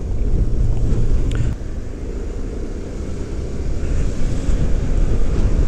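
Loud wind buffets the microphone in a constant low roar while riding a scooter on a windy day, with a brief dip partway through.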